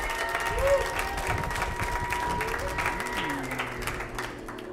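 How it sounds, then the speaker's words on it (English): Steady applause from a live-music audience fills the space, with some crowd murmur and a few tonal sounds drifting through. "Give a big round of applause."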